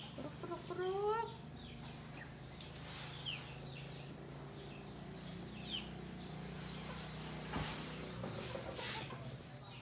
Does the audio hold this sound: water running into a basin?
no